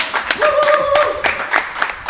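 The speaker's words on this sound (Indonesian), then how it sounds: "Kasih tepuk tangan dulu" Audience clapping at an Indonesian Catholic youth talk, a short burst of scattered hand claps, moderately loud, with a sustained tonal sound and some voices mixed in.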